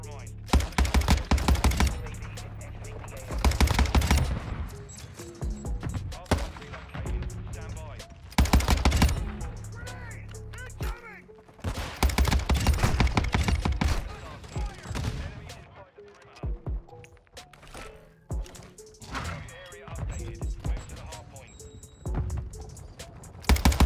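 Rapid bursts of gunfire from a Cronen Squall rifle in Modern Warfare 2, loud and close, firing in repeated clusters of sharp shots separated by short pauses, with game effects between volleys.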